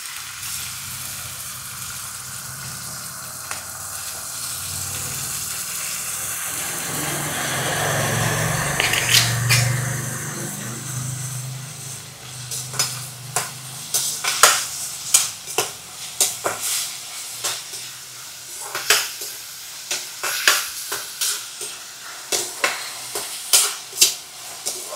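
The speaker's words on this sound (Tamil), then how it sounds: "வெங்காயத்தை போட்டுருவோம்." Onions frying in a pan for kothu parotta give a steady close sizzle that swells, then gives way to a run of sharp stirring scrapes and clacks over the hiss.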